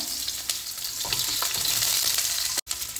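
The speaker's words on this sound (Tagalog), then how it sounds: "Para gisahin natin ating panakot." Aromatics, including onion, sautéed in olive oil for a squash dish: a steady, bright sizzle with occasional stirring scrapes, close and continuous, broken by a brief cut near the end, with no talk.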